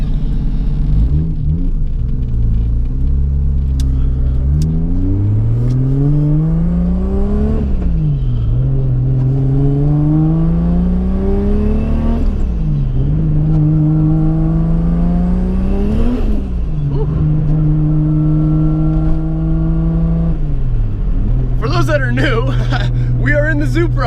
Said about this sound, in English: This is my 1990 2JZ swapped Z32 300ZX Nissan.